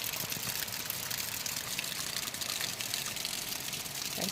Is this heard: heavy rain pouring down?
yes